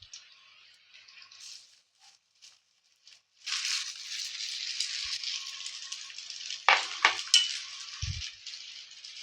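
Vegetable spring rolls fry in hot oil with a steady, moderately loud sizzle that swells after a quiet start, broken by a few sharp utensil clinks and rattles near the end.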